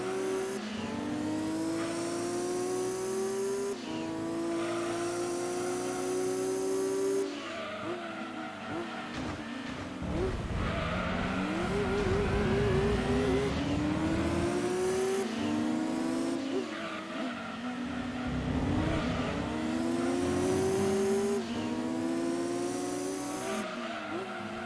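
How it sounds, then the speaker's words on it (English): Race car engines in Gran Turismo 2 rev and whine continuously with turbo whistles, rising through gear shifts and tire squeals, loud and steady throughout. "These turbo noises are forever"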